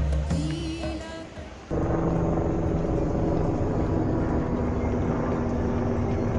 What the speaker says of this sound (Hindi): एक आ रहा है, एक जा रहा है, इस तरह से यहाँ पे हेलीकॉप्टरों का तो तांता लगा हुआ है।